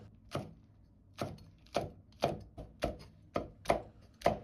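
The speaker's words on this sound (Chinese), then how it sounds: "再把杭椒和小米辣斜刀切成片" A knife chops hot green chillies on a cutting board with about nine crisp, evenly spaced thunks, close and clear with no talking.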